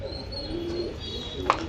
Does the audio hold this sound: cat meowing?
no